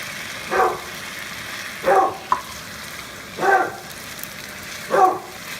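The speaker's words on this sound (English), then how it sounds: "That's our dog making a lot of noise." Four separate dog barks at regular intervals, moderately loud and slightly distant, with quiet background noise between them.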